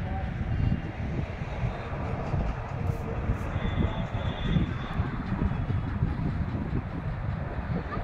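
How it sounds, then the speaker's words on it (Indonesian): A strong gust of wind roars steadily across a street in Chandigarh, India, a dense low rumble that fills the whole stretch with little change, faint traffic noise blending underneath. "hembusan angin lumayan kencang"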